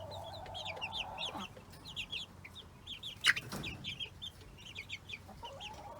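A small flock of chickens clucks softly and repeatedly nearby while pecking at feed, with one brief louder clatter partway through and no talk.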